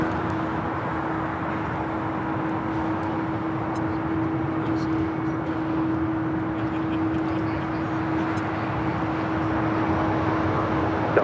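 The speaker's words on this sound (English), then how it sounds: "Next takeoff heading to Phoenix, Arizona. American Airlines flight 1683. It's an A321." American Airlines Airbus A321 airliner taking off at LAX, a steady, loud, continuous jet roar with a sustained tonal hum running throughout at constant level.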